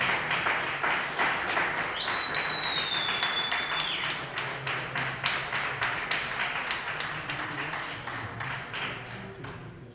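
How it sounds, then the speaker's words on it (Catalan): A concert audience applauds the performers in a hall, moderately loud clapping that becomes rhythmic and unified, with a brief electronic whistle or feedback tone early on. "aplaudiment per a aquest elenco d'artistes,"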